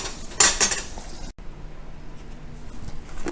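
Pieces of fried bass are lifted out of a greasy pan, with a burst of clinking metal and pan clatter, then a quieter stretch of soft scraping and handling nearby, and no talking.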